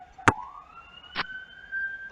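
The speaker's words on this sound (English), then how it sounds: "So you hear an ambulance outside," An ambulance siren outside, heard faint and distant with slowly rising tones and two sharp clicks near the start, no talk.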